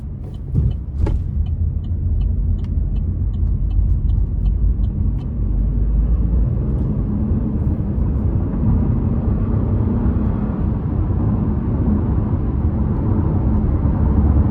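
A 2024 Chevrolet TrailBlazer ACTIV AWD with a 9-speed transmission accelerates. A steady, loud engine and road drone fills the cabin throughout, with a few light ticking clicks near the start.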